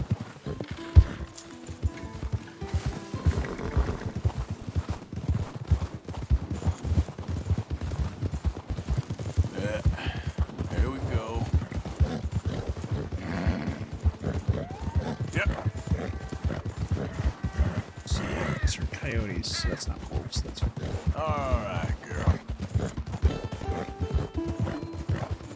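A fancy white Arabian horse in a video game clip-clops along with rapid, rhythmic hoofbeats and the occasional whinny, while someone talks over the game sounds.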